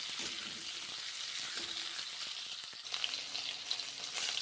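Green bananas (raw plantain) fry in a pan with oil for a Bengali curry, giving a steady broadband sizzle with occasional stirring scrapes and crackles throughout, close and unbroken.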